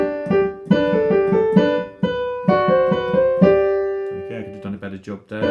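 Mozart's Eine Kleine Nachtmusik played on piano at a tutorial level, a bright melody of clear separate notes over a moving left-hand part, close and even, with brief pauses between phrases.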